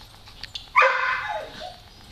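Dogs bark and yip at a dog daycare, a couple of short sharp barks followed by a loud, sustained burst of overlapping barking and whining close by that gradually fades.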